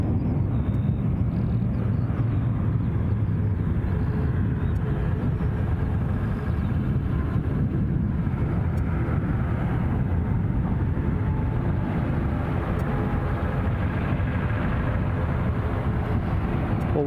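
An RAF Grob Tutor training aircraft at Glasgow airport produces a continuous, even engine drone and rumble that holds steady throughout without a break.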